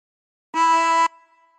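One steady blow note from hole 2 of a chromatic harmonica, clear and reedy with a rich buzzy edge, lasting about half a second before stopping abruptly with a short fading echo.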